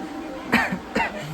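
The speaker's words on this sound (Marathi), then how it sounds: "मला झाला खोकला." Two short, sharp coughs about half a second apart, close and fairly quiet, over a faint room background.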